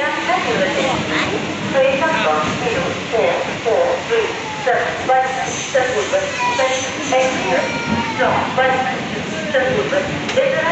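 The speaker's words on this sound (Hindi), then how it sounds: "हमारी ट्रेन फाइनली आ चुकी है।" An express passenger train pulls in at a station platform with a continuous rumbling roar and rhythmic clatter of wheels over rail joints, loud and close, mixed with crowd noise and voices on the platform.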